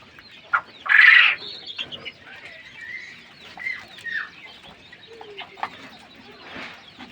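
King quail on a small farm give short calls, one louder burst early on followed by softer chirps and clucks scattered over a quiet background.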